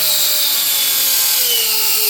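Grinder working a folded, sharp edge off a lawn mower blade, a loud, close, continuous high-pitched whir and rasp with slight pitch shifts.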